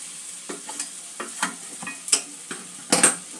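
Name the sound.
potato and papaya sautéing with spices in a pan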